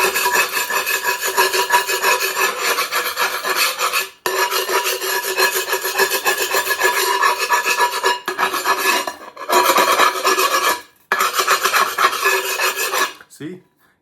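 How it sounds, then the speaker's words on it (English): A chisel rasps across a kiln shelf, scraping off glaze in long, steady gritty strokes, pausing briefly a few times before the scraping resumes, close and loud with no talking. "scrape it off with a chisel"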